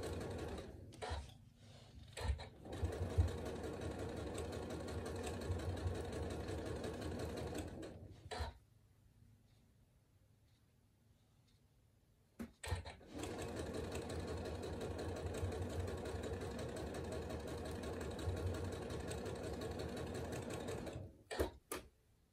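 A sewing machine stitches strips of a log cabin table runner, humming steadily and closely for several seconds, pausing briefly, then running again with a fast, even buzz.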